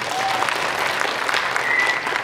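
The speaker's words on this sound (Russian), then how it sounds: "бурными аплодисментами" Lively audience applause at the Raduga folklore and ethnographic festival, a sustained wash of many hands clapping at moderate volume without any voice over it.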